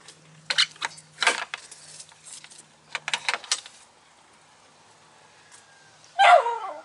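Mom's dog gives a few sharp barks and yips in an autumn garden in Wisconsin, close and in bursts, then a pause and one last louder yelp.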